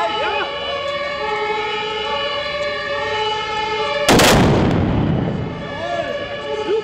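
A ceremonial black-powder salute cannon fires a single loud, close boom at a fan club gathering, its roar decaying over about a second amid ongoing crowd noise and sustained tonal sound.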